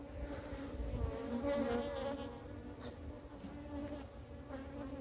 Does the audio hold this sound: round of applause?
no